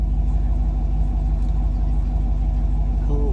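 A Gen V L83 V8 swapped into a vehicle runs under load with a steady, loud low rumble throughout, a slight detonation knock buried in the drone and a brief rising whine near the end.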